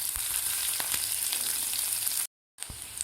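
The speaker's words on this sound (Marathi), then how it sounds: "हिरवी मिरचीसुद्धा आपल्याला 1 मिनिटभर फ्राय करून घ्यायची आहे." Green chillies frying in a pan, a dense continuous crackling sizzle close by with a few sharp pops and a momentary dropout near the end.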